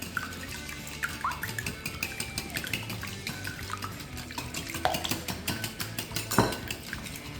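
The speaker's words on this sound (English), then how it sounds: "we're just going to whisk that up" Salt and pepper seasoning whisked in a bowl, giving a quick, steady run of close metallic clinks and taps, with no talking.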